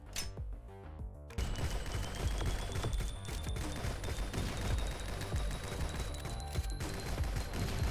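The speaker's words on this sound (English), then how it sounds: "This AK is just not very good." AK rifle gunfire in the video game GunCraft Survivor: after a brief quieter lead-in, rapid continuous automatic bursts rattle loudly with layered game sound effects, no talking.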